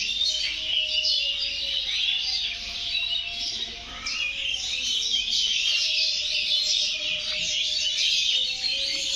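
Many birds call and chirp continuously among garden trees near mango and guava, a dense chorus of bright tweets with a few clearer whistled notes rising above it, with no one talking.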